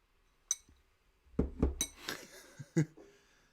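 A proper drinking glass clinks close by in several sharp, bright taps: one alone, then a quick cluster of three, then a final ring, over a quiet background.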